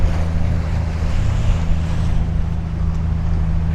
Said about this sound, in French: Plutôt des vagues de surface.